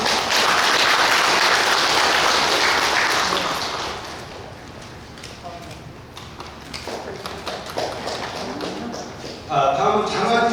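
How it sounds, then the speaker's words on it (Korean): Congratulatory applause at an award ceremony during a Buddhist Dharma service at Hwangryongsa temple: a full, loud round of clapping that thins out after a few seconds into scattered claps, with a voice coming in at the very end. "자, 축하 박수 부탁드립니다."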